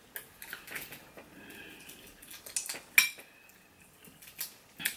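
Cutlery clinks and scrapes against a plate while prawns are opened, a string of small, close, sharp taps and scratches at a quiet level with soft pauses between them.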